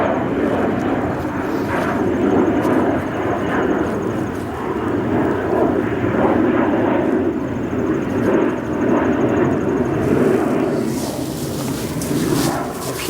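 A tri-jet airliner roars at O'Hare Airport, a loud sustained engine rumble with whining hiss that holds steady for the whole stretch, heard fairly close.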